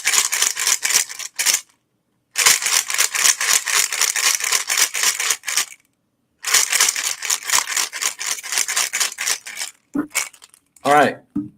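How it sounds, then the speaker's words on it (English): A sheet of notebook paper is crumpled up in several loud, close bursts of crackling and crunching separated by short silences, followed by a brief voice at the end. "simply taking a piece of paper out of a notebook, crunching it up, and then throwing it into a waste paper can"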